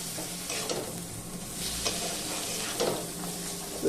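Okra and spices such as chili, turmeric, coriander and cumin stirred in a hot pan, a soft continuous sizzle broken by the scrape of the spoon at intervals, with no talking.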